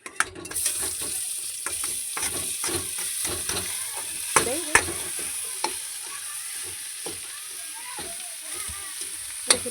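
Potatoes frying in ghee with dried chillies for a family event, a constant crackling sizzle with frequent spatula scrapes and knocks against the pan, close by.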